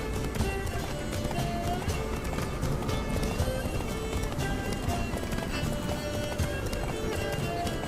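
Horse hooves drum in a fast, steady gallop in The Witcher 3: Wild Hunt, a continuous clip-clop rhythm over game ambience and music with an occasional snort.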